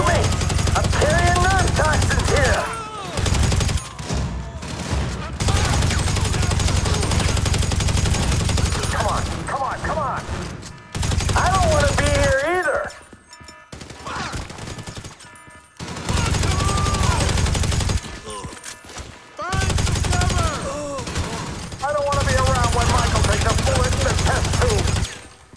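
Gunfire from a military firefight in Grand Theft Auto 5, loud and dense, with several sustained bursts that come and go alongside game dialogue and music.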